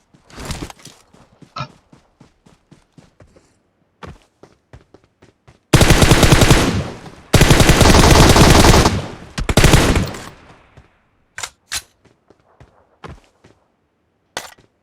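Automatic gunfire in the PUBG Mobile shooter: scattered single shots and clicks, then two long sustained bursts in the middle, followed by a few more isolated cracks as things go quiet.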